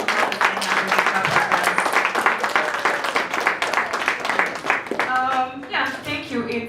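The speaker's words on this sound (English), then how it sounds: "So make this a very, very heavy round of applause." Applause at a conference session closing rises as a steady round of clapping for several seconds, with voices speaking over its tail end.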